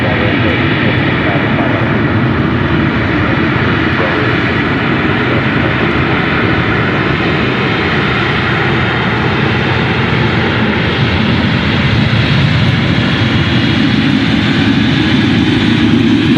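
Jet aircraft engines at Memphis International Airport, with FedEx planes around, produce a loud, steady, broadband roar that holds unbroken and close throughout.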